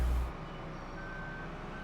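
A truck backing up in Farming Simulator 15 gives off a steady high reversing beep over a low, continuous engine hum, with no voices.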